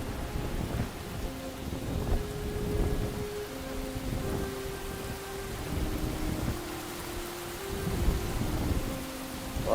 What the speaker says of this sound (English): of course it's going to start raining